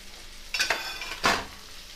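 Spice paste of green chili, garlic, ginger, black pepper and cumin frying in a pan, a faint steady sizzle broken by two short bursts of stirring scrapes.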